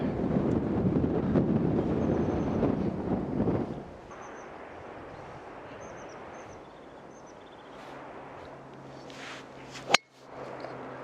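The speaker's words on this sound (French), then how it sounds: "vous l'entendez certainement le vent là" Outdoor wind buffets the microphone as a loud, rough rumble for several seconds, then drops to a quieter breezy background with faint chirps and a sharp knock near the end.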